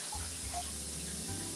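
Tap water runs steadily into a sink while a whole Perdue chicken is rinsed, a soft continuous wash with faint splashing, steady throughout and fairly quiet.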